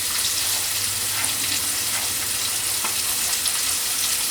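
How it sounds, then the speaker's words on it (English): Pieces of fish fillet sizzle and fry in a hot skillet, a steady close crackling hiss with a few soft pops throughout, no voices. "because I let the skillet get hot, it's already starting to fry"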